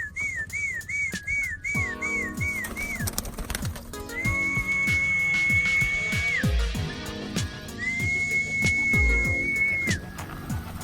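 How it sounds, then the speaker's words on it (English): A person whistles to call Birmingham Roller pigeons down, first with a quick, warbling, repeated trill and then with two long, steady, high whistles. Low thumps and knocks sound in the background. "Normally we whistle, and the whistle gets a response."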